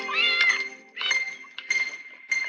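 Cat meowing and yowling in several strained, wavering cries separated by short pauses, close and fairly loud, as the animal struggles to get away.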